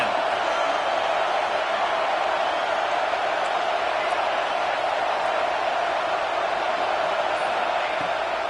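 A packed football stadium crowd roars on a third-and-10 play, a loud, unbroken wall of cheering noise that holds steady throughout.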